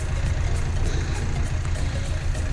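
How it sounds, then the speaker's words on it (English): A tractor engine idles steadily outdoors on rural land being cleared, a continuous low rumbling drone with no breaks and no talking. "He's got his tractor back up and running again."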